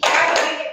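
One sharp hand clap from a kindergarten group responding to a call, a single loud close burst that decays quickly.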